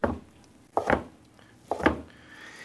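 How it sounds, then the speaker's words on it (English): A knife cuts seitan into small strips on a board, three distinct close chops spaced about a second apart, each a sharp thud with a quiet pause between. "we're going to cut them into small strips"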